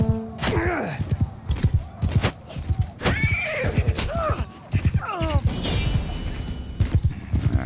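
In the battle game Mount & Blade II Bannerlord, a horse whinnies several times in descending cries over a busy clatter of hooves and battle noise, loud and close.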